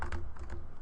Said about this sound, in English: If I start typing letters with it selected,